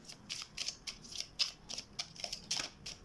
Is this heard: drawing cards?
yes